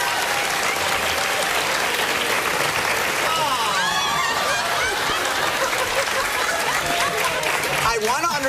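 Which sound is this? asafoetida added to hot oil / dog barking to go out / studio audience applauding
studio audience applauding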